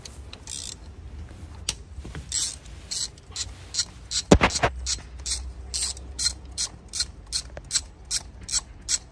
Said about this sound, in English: Need to remove these 2 screws holding coil pack.